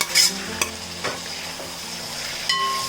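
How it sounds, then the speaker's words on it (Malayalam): Cooked beef in its gravy tipped into a pan for beef pirattu, sizzling and frying steadily while a utensil stirs it with a few distinct scraping strokes, close and fairly loud with no talk. "ഇനി നമുക്ക് ഈ വേവിച്ച് വെച്ചിരിക്കുന്ന ബീഫ് ചാറോടുകൂടി തന്നെ ഇതിലേക്ക് ഇട്ട് കൊടുക്കാം."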